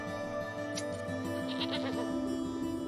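A goat bleats in the video game Wytchwood, one drawn-out, wavering bleat over a steady droning game music bed.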